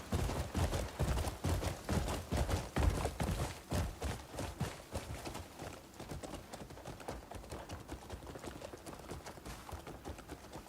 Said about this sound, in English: I love the sound of the horse clanking.